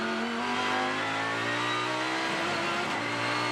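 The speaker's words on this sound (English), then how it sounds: "Sounds amazing riding inside the Lamborghini Hurricane." From inside a Lamborghini Huracan GT race car at Sydney Motorsport Park, the engine roars loudly and continuously under hard acceleration, its rising pitch shifting through the revs in a close, full cockpit sound.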